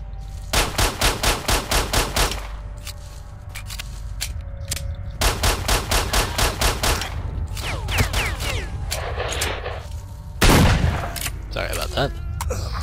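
Rapid bursts of gunfire in the STALKER video game, loud close volleys of repeated shots with pauses between, a heavy boom near the end, and a voice speaking over parts of it.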